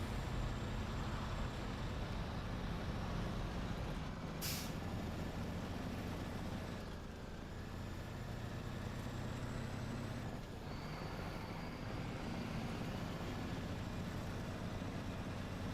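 P16 truck in SnowRunner grinding up a hill, its steady low engine drone and rumble continuous and loud throughout, with a few brief higher whines and clunks over it.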